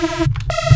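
A buzzy drum-and-bass reese synth bass with random phase set to zero, giving a steady, phase-aligned character, holding briefly, dipping, then returning, with no talking.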